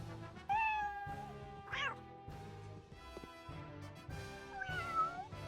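Cats in the video game Arc the Lad meow in several separate calls, clear and fairly close, set over steady game music without talk.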